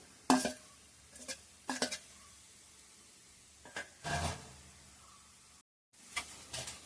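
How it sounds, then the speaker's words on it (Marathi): A spoon stirs radish bhaji with coconut and dal in a pan, making several short scraping, sizzling bursts spaced apart. The sounds are soft and close, with quiet gaps between them. "आणि ढवळून घेऊया."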